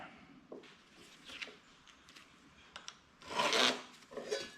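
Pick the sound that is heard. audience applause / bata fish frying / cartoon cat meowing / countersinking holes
countersinking holes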